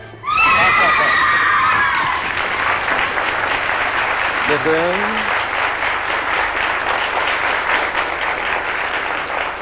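Loud, dense applause from a theatre audience at a 1969 comedy show, a broad continuous clatter of many hands carrying on throughout, while voices shout and someone speaks briefly over it.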